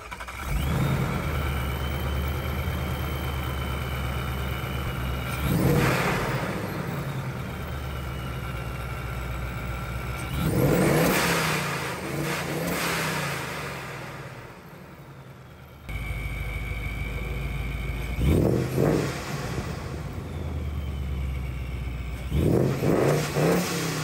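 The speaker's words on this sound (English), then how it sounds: "the whistle, the blow off valve, it's louder than the exhaust" A Ford Mustang Mach 1 engine revs hard several times, each rise topped by a ProCharger supercharger whistle and ending in a sharp blow-off valve hiss, with idling between.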